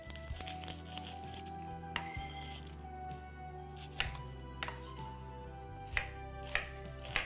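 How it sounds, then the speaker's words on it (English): A kitchen knife chops a small onion on a board, giving a few sharp, scattered strikes over a steady musical background. "I'll chop one small onion"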